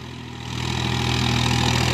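A Swaraj 4x4 tractor engine runs close by with a deep, steady throbbing drone that climbs gently in loudness, as though easing up in revs.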